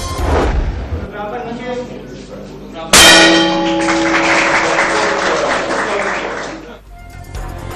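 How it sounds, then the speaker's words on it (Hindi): A bell rings sharply to open trading at the Pakistan Stock Exchange, a loud clang with long ringing overtones amid applause and crowd noise, following a news reader's voice. "पाकिस्तान स्टॉक एक्सचेंज का दौरा, घंटी बजाकर कारोबार का आगाज किया"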